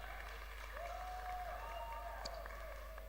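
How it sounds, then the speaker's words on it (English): Faint, distant applause from an audience at a summit event, a soft steady wash of clapping beneath a low hum and a brief voice. "A round of applause for her."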